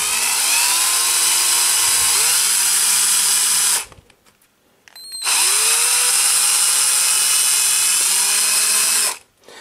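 A cordless drill driver with a 3.5 mm metal bit bores a hole in a soft, easily machined material. Two long, loud whirring runs are separated by a short pause, and the motor pitch drops slightly as the bit bites.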